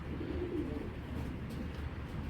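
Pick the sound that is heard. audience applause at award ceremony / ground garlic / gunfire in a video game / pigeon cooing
pigeon cooing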